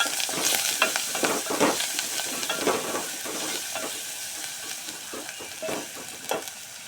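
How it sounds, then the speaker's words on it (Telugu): Turmeric and ginger fry in oil in a pan for a bottle gourd and moong dal dish, crackling and sizzling steadily while a spoon scrapes and stirs in repeated strokes, close up with no talking. "పసుపు కొద్దిగా అల్లం కొద్దిగా అల్లం వేసుకొని కొంచెం వేయించుకోవాలి"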